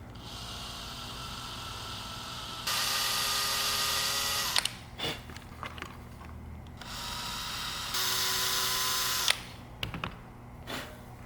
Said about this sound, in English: So these are the two holes that need tapping.